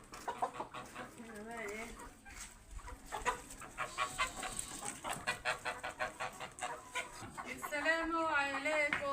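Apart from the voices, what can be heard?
chickens clucking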